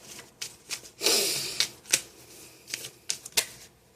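A deck of cards being shuffled by hand, with one longer riffling burst among several short, crisp flicks and taps close by, with no talking.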